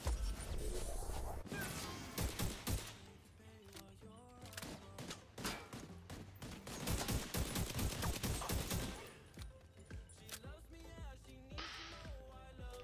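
Bursts of automatic gunfire and rapid shots echo through a Division 2 arena fight, dense volleys alternating with short pauses and some impacts, loud and close.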